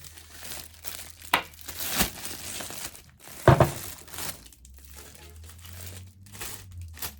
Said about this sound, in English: So we're just gonna drop the wine into the bag.